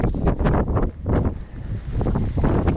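Strong high wind gusting hard across a microphone outdoors among parts and old cars, a loud rumbling buffet that surges and dips in waves.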